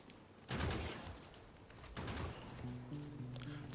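Automated gun turrets fire in Factorio, modded with Bobs and Angels, as bursts of rapid shots at the start and again midway. A low stuttering mechanical tone sits under the later part.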